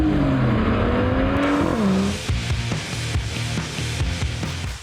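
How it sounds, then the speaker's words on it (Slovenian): A Mercedes-AMG inline six-cylinder engine revs hard under full throttle, a loud rising roar with a pitch sweep that drops back, followed by a steady rumbling drone with sharp transient pops, close and alone without voices. "ko pa pritisnemo močno na plin, pa se seveda sprosti vsa silovita moč tega vrstnega 6-valjnika,"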